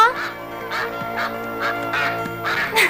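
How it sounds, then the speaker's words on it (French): A cartoon goose honks repeatedly in a quick, irregular series of nasal calls, close and fairly loud. "Que je suis bête, ce n'était qu'une oie."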